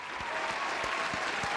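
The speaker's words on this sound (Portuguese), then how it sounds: "Aplausos." Audience applause in a Portuguese-language K-pop entertainment news show, a soft, steady wash of clapping that sounds slightly distant and low in level and runs throughout.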